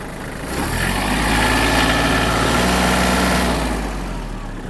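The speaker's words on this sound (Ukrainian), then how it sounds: "Можемо також додати обертів." Yanmar F-210 or Kubota T-220 compact tractor engine close by, idling steadily then rising as the revs are raised and held, a dense continuous rumble with vibration before easing back slightly.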